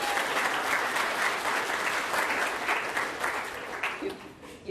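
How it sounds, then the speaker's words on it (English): A crowd at a high school fall sports banquet gives a warm round of applause for the boys' cross country team, steady clapping that gradually thins and fades toward the end. "let's have one more round of applause for the boys cross country"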